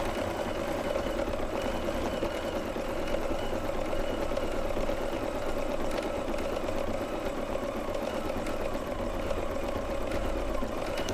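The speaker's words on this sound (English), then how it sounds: "So it does a little bit of underlay stitch, and then it will go in and do the satin stitch on the top." An embroidery machine sews underlay and then satin stitch, giving a steady, continuous mechanical whir and fast rhythmic needle chatter at close range, with no talk.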